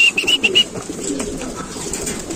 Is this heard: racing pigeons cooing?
yes